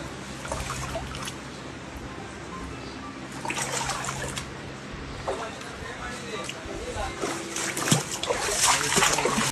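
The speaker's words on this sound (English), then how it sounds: "overflowing rainwater poured into the store" Overflowing rainwater pours and splashes into a bookstore during a Bengaluru thunderstorm and hailstorm, a continuous rushing gush with bursts of splattering, loud and close, with voices underneath.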